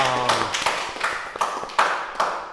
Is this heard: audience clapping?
yes